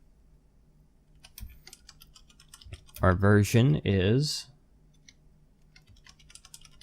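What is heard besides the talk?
typing code on a computer keyboard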